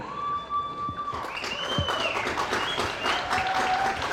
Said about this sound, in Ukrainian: вітаємо ваші оплески